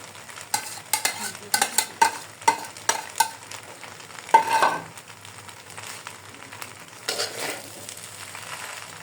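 Fried vegetables and noodles sizzle in a pan while being stirred, with a run of rhythmic scraping strokes and clinks early, then steadier frying, close and moderately quiet with no voices.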